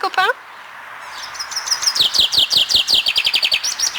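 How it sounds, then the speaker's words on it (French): Birds singing outdoors, a busy stream of rapid high chirps and trills that keeps building, with a short spoken word at the start. "c'est beau le chant d'oiseaux quand même"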